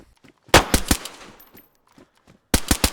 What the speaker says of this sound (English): Me and a survivor are exchanging fire for all the juicy loot